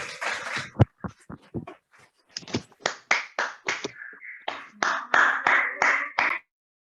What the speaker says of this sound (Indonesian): Beri tepuk tangan yang meriah untuk kedua narasumber kita.